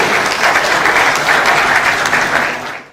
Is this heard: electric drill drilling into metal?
no